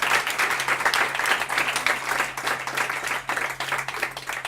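An audience applauds the designer of the poster at a Halloween PechaKucha night, a steady, dense wash of clapping that holds for several seconds under a faint low hum.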